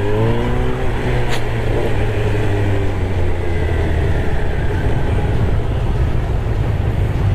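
A Honda CB750 Hornet motorcycle engine ridden in first gear on a track, a steady loud drone with rising pitch as it accelerates, joined by heavy wind rush.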